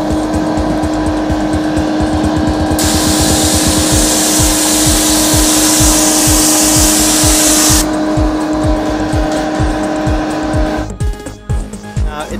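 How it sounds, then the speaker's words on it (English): Water sprayed onto a metal roof on a windy, rainy day makes a loud, steady hiss that swells for several seconds and then stops, over a background of constant rushing noise. "And I'm going to spray from this angle as well."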